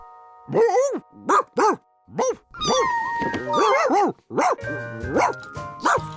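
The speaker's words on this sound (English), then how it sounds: "He'd never seen a dog before." Cartoon dog in Curious George barking in short, repeated yips with whimpering, high whining tones between the barks, loud and close, with the voice mixed in among the sounds.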